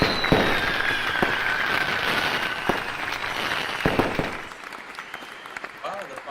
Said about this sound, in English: the fireworks are just getting better and bigger